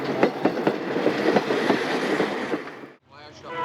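A westbound D&H freight train of the Conrail era rolls past at Lover's Lane, Great Bend, in July 1978, its wheels clattering rhythmically in close, loud, repeated clicks before a brief drop and the rumble resumes.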